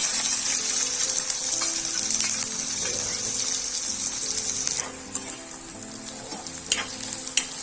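Chopped onions fry in hot oil with mustard seeds and cumin, a steady loud sizzle throughout with occasional spatula scrapes and small pops, no voices.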